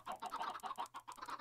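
Chickens in a crowded Minecraft pen cluck in quick, overlapping bursts, fairly faint and steady, with no talk over them.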